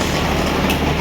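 A passenger train pulls into Raipur station, running an hour late, with a loud, steady rolling rumble and wheel clatter filling a brief moment.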